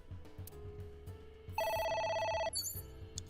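A telephone rings in the video game AI: The Somnium Files, one bright electronic ring burst standing out over soft background game music, followed by a short chime.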